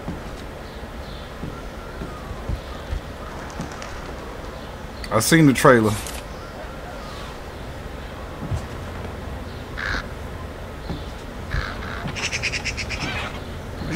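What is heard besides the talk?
birds cooing and cawing in video game Thief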